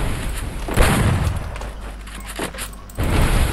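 Gunfire in the Free Fire video game: loud booming shots, one burst near the start and another at the end, with rumbling decay in between.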